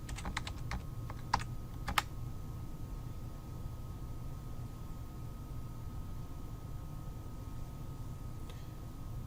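Short bursts of quick key presses on a computer keyboard, close and crisp, come in the first two seconds as credentials are entered, followed by quiet room hum.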